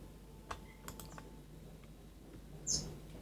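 Sparse keystrokes on a computer keyboard, a few faint isolated clicks and taps against a quiet room hum, ending with a brief high chirp.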